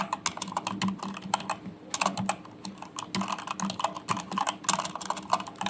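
Fast typing on a Rakk Tandus V2 TKL mechanical keyboard, dense bursts of clicky keystrokes close to the mic with a brief pause near the two-second mark, no voices.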